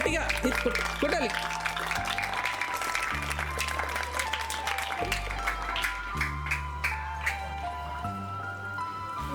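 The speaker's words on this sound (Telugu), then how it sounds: "మరి కొట్టండి గట్టిగా, కొట్టాలి." A group of children clap their hands hard in a rapid, uneven patter, with voices and steady tonal background sound running underneath the claps.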